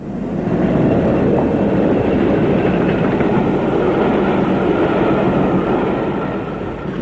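A British Rail Class 40 diesel locomotive hauling a southbound train past Armley, Leeds, a loud sustained roar of engine and rolling stock that swells in quickly and holds steady, close by, with no voices.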